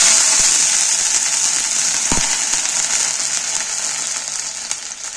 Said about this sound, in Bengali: উনুনে কড়া বসিয়ে দিয়েছি দিয়ে আমি একটু সামান্য জল দিয়ে দিচ্ছি